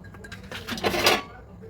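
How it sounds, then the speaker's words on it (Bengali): Ice is dropped into a glass of kesar badam thandai, producing a brief rattling clatter of cubes that builds and fades within about a second. "এর ওপর দিয়ে একটু বরফ দিয়ে দিলাম।"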